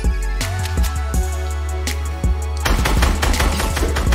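Rapid bursts of gunfire crackle in Fortnite, with a steady low hum beneath, growing denser and louder in the final seconds.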